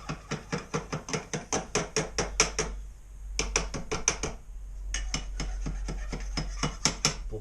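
A pipe-flaring tool folds over the raised edges of a copper pipe, producing a close, rhythmic run of sharp metallic clicks and rasps. A brief pause comes midway before the steady ratcheting resumes.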